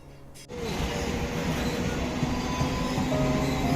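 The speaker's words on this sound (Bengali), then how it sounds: "ঘোড়াঘাটা স্টেশন থেকে ট্রেন ধরে আমরা পৌঁছে গেছিলাম উলবেরিয়া স্টেশনে" A passenger train in motion, heard from inside: a dense, steady rumble of wheels and carriage noise that begins abruptly and stays loud and continuous, with no talk.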